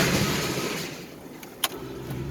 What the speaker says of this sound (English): It's just tire noise and wind noise